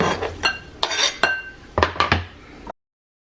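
Knife chopping food on a cutting board, about eight sharp, close knocks in an irregular rhythm over a couple of seconds, then silence.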